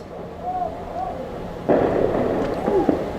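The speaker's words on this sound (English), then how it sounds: "You can hear the fireworks going off in the distance." Distant Fourth of July fireworks boom during a live semi-pro football broadcast: a few muffled, rumbling bursts roll in over a steady crowd-and-field background, with a faint murmur of voices underneath.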